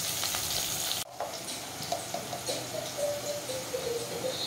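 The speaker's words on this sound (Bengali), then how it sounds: "একটু ভেজে নিচ্ছে" Potato pieces and capsicum fry in a pan with a soft continuous sizzle, briefly cut off after a second, then resuming with light stirring scrapes and faint chirps in the background, no talking.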